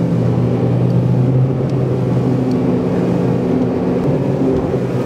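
Ranieri H20CC Open boat's engine held at full throttle on the water, a steady loud droning roar with engine hum and rushing water, continuous with no talk.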